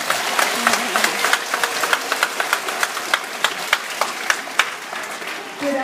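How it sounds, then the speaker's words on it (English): Children in an audience clap for a performer at a school show, sharp individual claps standing out in a loose, uneven rhythm over a softer bed of scattered applause, fairly close and moderately loud. "Let's give a hand of applause here for the MacRo Queen."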